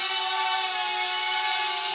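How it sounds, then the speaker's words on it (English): A small Hubsan X4 quadcopter hovers with a steady high-pitched motor whine and propeller buzz, continuous and fairly loud, with no talking. "One little Hubsan quadcopter."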